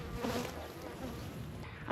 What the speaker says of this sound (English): Unfortunately, the guard bees are on to me already